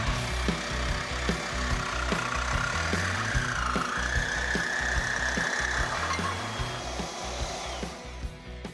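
A Sawzall reciprocating saw cuts through metal on a 1946 Ford in a loud, continuous, rasping drone with a steady rapid stroke rhythm, close up and running for the whole stretch with no talking over it.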